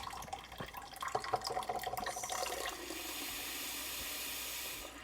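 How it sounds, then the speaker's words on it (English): Cold tap water runs over freshly boiled eggs in a kitchen sink: a few splashy drips and gurgles at first, then a steady, hissing stream of running water that cuts off sharply at the end. "just rinse it with some cold water"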